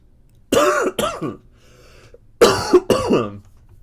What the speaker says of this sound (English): We went so much of this Twitch stream with me not coughing, and of course, it's happening.